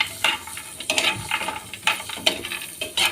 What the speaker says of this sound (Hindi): ये भूनने के साथ ड्राई फ्रूट और क्रंची हो जाएंगे और हलवे के अंदर बहुत ही मज़ा आएगा।